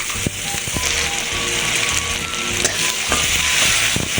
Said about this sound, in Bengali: আর একটা মাঝারি সাইজের পেঁয়াজ কেটে নিয়েছি, ওই পেঁয়াজটা দিয়ে দেব। দিয়ে দেব পেঁয়াজ কুচি।